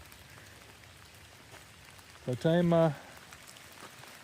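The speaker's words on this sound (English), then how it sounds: "And it is raining." Rain falls steadily at a campsite, a soft continuous patter throughout, briefly joined by a short spoken voice partway through.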